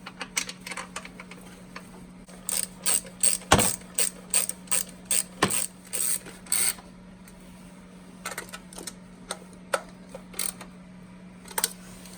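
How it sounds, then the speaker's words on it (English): A hand ratchet tightens 12mm bolts on a 2010-2015 Toyota Prius Hybrid, giving bursts of rapid clicking in short repeated strokes with pauses between, close and clear over a low steady hum. "I'm going ahead and putting our 12mm bolts back in place."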